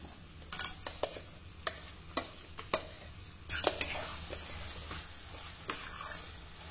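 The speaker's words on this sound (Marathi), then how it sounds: "आता मंद आचेवर आपल्याला हे परतून घ्यायचे आहे" Ground green peas sauté with a pinch of asafoetida and turmeric over low heat, a quiet sizzle broken by repeated sharp scrapes and taps of a spoon stirring the pan.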